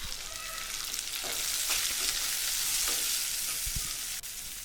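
Chopped onions fry in a pan after curry leaves, a continuous bright sizzle with a few light ladle scrapes and taps as they are stirred, close up with no talking.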